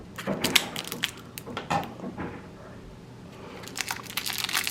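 Crinkling and tearing of a plastic package of slider patties being cut open indoors, a series of close, irregular crunches and rustles with a quieter pause midway before more crackling.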